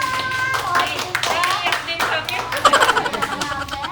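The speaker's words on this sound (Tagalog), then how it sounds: "Palakpak naman dyan!" A small group claps at a family SUV trunk surprise gathering, scattered hand claps mixed with chuckles and overlapping talk, strongest toward the end.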